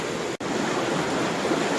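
Steady broadband rushing and churning of bubbling jacuzzi water at a spa, continuous and fairly loud, with a brief drop-out near the start.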